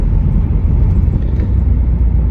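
Diesel Volvo 850 TDi driving on a winter road, its engine a steady low rumble mixed with road and tyre noise, loud and continuous from inside the car with no talk.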